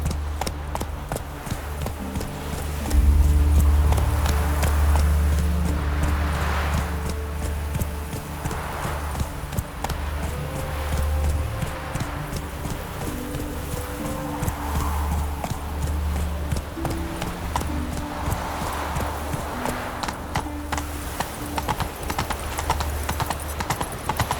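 Roach the horse gallops in The Witcher 3, a dense, steady clip-clop of hooves at speed, loud and continuous over background game music and ambience.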